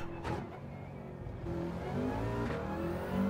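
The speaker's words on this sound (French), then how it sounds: "4L avec un moteur de Porsche sur l'autobahn" A Renault 4L fitted with a Porsche engine revs on the autobahn in a video game, a steady mid-pitched engine drone that rises and swells throughout, continuous and fairly loud with no talk over it.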